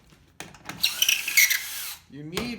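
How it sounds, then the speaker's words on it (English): A power drill with a 1/4 inch bit bores a hole while building a stool from a barrel, whining in a short high burst, then a voice speaks briefly near the end. "You're gonna need to drill a hole 1/4 inch"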